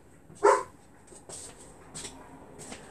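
A single sharp dog bark rings out near the start, followed by a few softer, distant yips and sounds in a quiet room.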